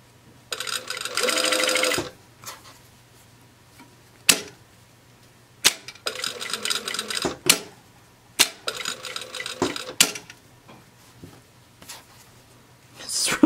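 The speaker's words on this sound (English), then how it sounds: "now you can just start sewing where you know, maybe like an inch back and sew over your previous line" A sewing machine stitches a dress bodice in short, close runs of rapid whirring with sharp clicks and pauses between bursts.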